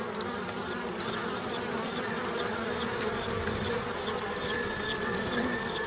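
Dense, steady buzzing of many bees, continuous and fairly loud throughout with no voices.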